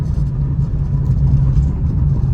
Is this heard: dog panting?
no